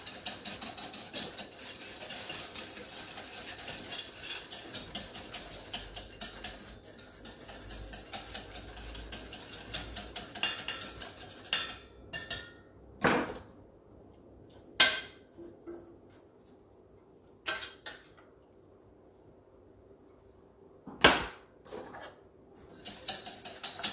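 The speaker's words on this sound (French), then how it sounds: "On fouette bien." A whisk clatters steadily against a bowl while boiling coconut-pineapple purée is beaten into a batter for mini financiers, a fast, continuous metallic scraping that breaks off into a few sharp isolated clinks toward the end.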